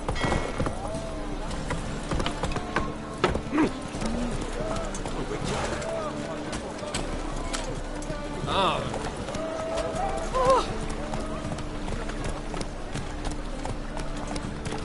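A horse gallops in the video game The Witcher 3, its hooves clip-clopping in a steady running rhythm beneath game ambience and a faint whinny, with a person speaking over it.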